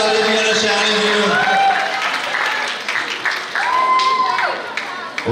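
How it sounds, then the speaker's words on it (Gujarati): A crowd at a women's gathering and music festival claps loudly for two performers, a sustained wash of applause while a voice talks over it. "જોરદાર તાળીઓથી વિશાલજી અને શ્યાણીજીનું"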